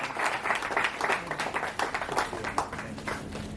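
Audience applause at an award ceremony for disabled achievers, a steady crowd of clapping hands sustained throughout, moderately loud and dense with faint background voices.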